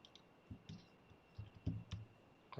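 Fingers typing on a computer keyboard, a few soft, close clicks in small uneven bursts, faint and without talk.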